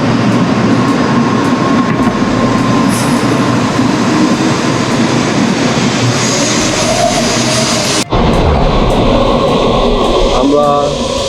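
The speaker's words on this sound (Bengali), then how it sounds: "এই ট্রেন 350 কিলোমিটার প্রতি ঘন্টায় এটা ছাড়া যাচ্ছে।" Shinkansen bullet train near Hiroshima rushing along at about 350 km/h, a loud continuous roar with rumble and faint rail clatter inside the carriage, a brief jolt near the end and voices over the noise.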